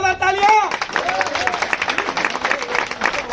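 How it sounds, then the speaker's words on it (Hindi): Crowd applause at a BJP candidate's campaign event where flowers are showered, a sustained wash of many hands clapping with shouting voices at the start and talk continuing over it. "जोरदार तालियां।"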